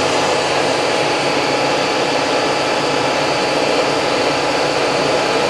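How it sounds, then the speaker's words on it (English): A milling machine spindle runs steadily for the whole stretch, a loud, even, broadband whir with no speech over it. "So basically you get your spindle running."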